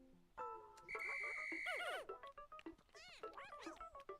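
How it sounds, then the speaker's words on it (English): A chirpy, sweeping electronic whistle from the video game Pikmin 4, calling Pikmin back, rising and falling in repeated warbling bursts over bright game jingles, loud and close. "Now I'll use B and hold to call them back to me with my whistle."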